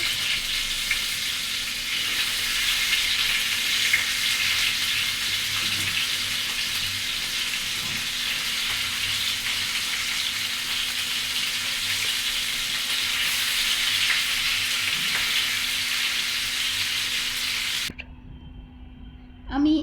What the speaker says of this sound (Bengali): একে একে সবগুলো স্টিক ভেজে নিয়েছি